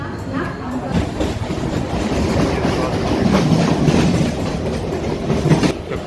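A Mumbai local commuter train rumbles along steadily from inside a second-class carriage, wheels clacking over rail joints beneath a loud continuous roar, with faint voices mixed in.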